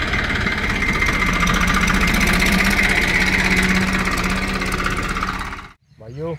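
Massey Ferguson tractor engine idles with a steady, chugging low rumble and constant mechanical vibration, close and loud for several seconds before cutting to a brief pause with a voice starting at the end.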